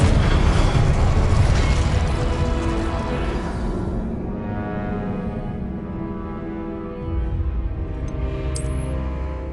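A roaring burst of magical fire from the Incendio spell in Hogwarts Legacy flares loudly at the start, then decays into a lingering rumble with a small chime near the end.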